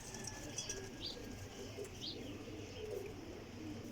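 A Pipplan-wala pigeon coos softly with a low, rolling murmur, and faint chirps sound against steady background noise.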